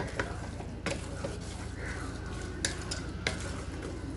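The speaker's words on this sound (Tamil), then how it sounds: "இது குறைவான தீயில வச்சுட்டு நல்லா கிண்டி விட்டுக்கிட்டே இருங்க" Bottle gourd halwa with sugar being stirred in a pan over low heat, a steady scraping churn with soft sizzling and occasional sharp clinks of a spoon against metal, close and continuous.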